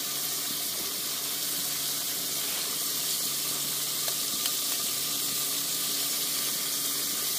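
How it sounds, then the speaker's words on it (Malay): Spices sizzling and frying in a pan over a camp stove while camping on an island in Perak, a steady close crackle with occasional stirring clinks. "Kita goreng rempah dulu."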